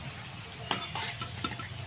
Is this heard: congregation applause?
no